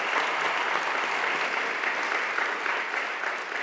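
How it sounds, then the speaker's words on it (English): Dense, sustained audience applause for two teachers at a school district address, a large crowd clapping evenly and loudly throughout. "Can we give Anita and Erin a round of applause once again?"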